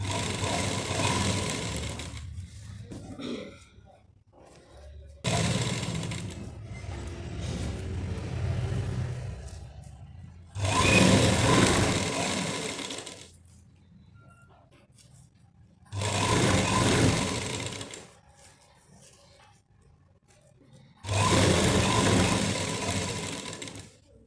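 Sewing machine stitching piping along the side seams of a shirt, running in four loud bursts of steady motor whir separated by quieter pauses of fabric handling.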